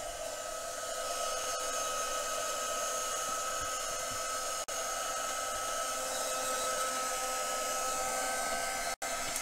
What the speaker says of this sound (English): I'm going to run the heat tool down by my side to warm up a little bit and then bring it in. It is quite loud